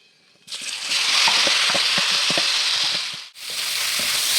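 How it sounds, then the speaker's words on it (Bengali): Pieces of elephant apple (chalta) drop into hot oil and fry with a loud, dense sizzle and spattering pops, briefly dipping before the hiss resumes, heard up close without talk. "চালটাটা আমি বেশ সুন্দর করে ভেজে নেব"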